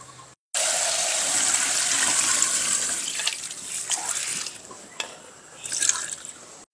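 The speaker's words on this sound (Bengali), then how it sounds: "মাছটা কেটে ধুয়ে নিচ্ছি।" Running water rushes steadily as freshly cut kajoli (bashpata) fish is washed under a tap in a home kitchen, then fades into softer splashes and drips.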